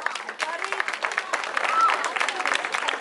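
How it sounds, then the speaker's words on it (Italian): A television singing-show audience applauds a contestant's entrance, a continuous rattle of many hands clapping at moderate loudness, with a presenter's voice faintly over it. "E l'applauso del pubblico tutto per te."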